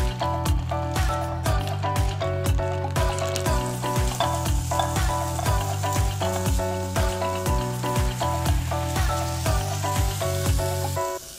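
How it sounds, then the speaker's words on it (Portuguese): Diced bacon fries in a pot, a loud continuous sizzle with rapid crackling pops throughout, layered over a rhythmic musical background. "Enquanto o bacon refoga, a gente vai picar o alho e a cebola finamente."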